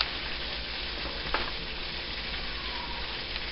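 Spinach wilting in a hot pan gives off a steady, even sizzle with a brief crackle, continuous and close, with no voices.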